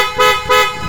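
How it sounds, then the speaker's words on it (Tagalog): A Yamaha Gravis scooter horn honks twice in short, buzzy blasts, loud and close, with steady engine noise in between. "Busina."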